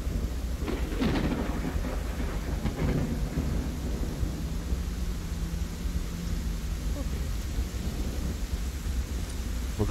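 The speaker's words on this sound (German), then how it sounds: "Der Regen." Rain and thunder in the video game No One Survived: a steady hiss of rainfall with deep, rolling thunder rumbling through, loud and continuous, with brief talk at the start.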